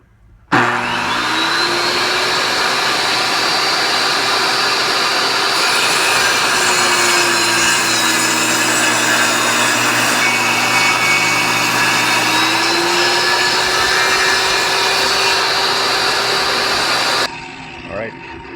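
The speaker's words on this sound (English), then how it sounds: "I'm just going to shave off this rounded end right here so I get onto flat wood." A power tool roars steadily and loudly for about sixteen seconds as it shaves the rounded end off a wooden frame piece for a painting canvas, starting abruptly and cutting off near the end.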